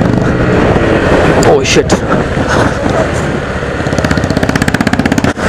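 Royal Enfield Bullet 350 and Bajaj Pulsar NS 125 in a drag race on a road, engines droning loudly and steadily, with a rapid pulsing exhaust thump near the end and a short exclamation from a rider over the noise.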